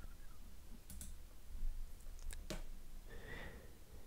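A computer mouse clicks a few times in quick, sharp, faint ticks over a quiet room hum, with no talk.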